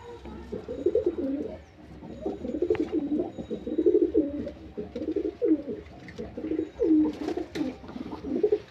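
Male Jiriya pigeons, white with full Jiriya print, coo in a steady run of low, throaty, rolling calls that repeat close to the microphone with little else around them.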